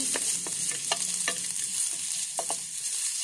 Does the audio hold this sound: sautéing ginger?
yes